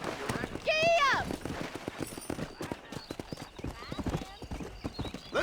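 Horse hooves clip-clopping at a gallop in the video game Red Dead Redemption on PS5, a steady rhythmic beat with a loud neigh near the start, under continuous talk from a man.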